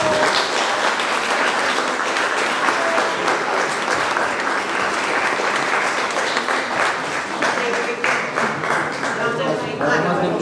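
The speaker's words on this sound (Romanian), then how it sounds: "Încă o dată să-i aplaudăm." Audience at a county council meeting in Bacău applauds continuously, a loud, dense and even clapping from many people lasting the whole stretch, with faint voices underneath.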